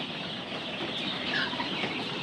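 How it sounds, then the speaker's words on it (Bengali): Tiger breed chickens cluck softly over steady farmyard background noise on a farm in Ullapara, Sirajganj, on a rainy day, with a few brief higher calls rising above the flock. "এই যে এগুলো টাইগার মুরগি"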